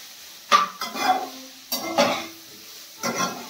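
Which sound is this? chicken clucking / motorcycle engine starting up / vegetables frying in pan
vegetables frying in pan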